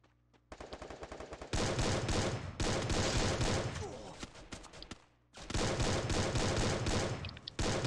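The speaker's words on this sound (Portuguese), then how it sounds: "Você tá atirando na parede." Gunfire from the mobile battle-royale game Free Fire: loud, dense automatic bursts with rapid shot after shot, broken by a brief lull and then another sustained volley.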